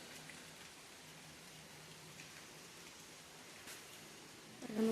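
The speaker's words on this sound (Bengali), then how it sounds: "বাইরে তো বৃষ্টি হচ্ছে।" Heavy rain falls outside, heard from indoors as a faint, steady patter that never lets up, with a brief louder rustle at the very end and no one speaking.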